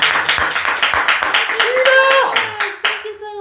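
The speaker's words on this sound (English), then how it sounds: "Can we clap it up?" A studio audience claps briefly for a guest as a talk show host welcomes her, sharp hand claps scattered through the first half, then a voice begins speaking over the fading applause.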